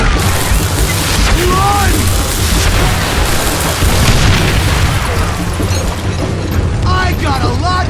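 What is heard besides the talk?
dynamite explosions in video game Call of Juarez Gunslinger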